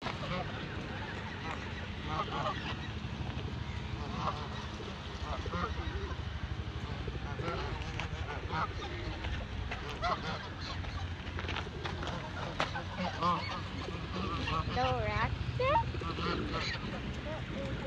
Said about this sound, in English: little mama fed the birds right now. That's why they're going crazy.